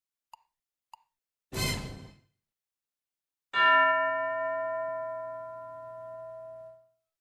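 A bell rings in a classroom English lesson, a loud clear metallic strike with a long sustained ringing decay, after two short taps and a brief noisy burst.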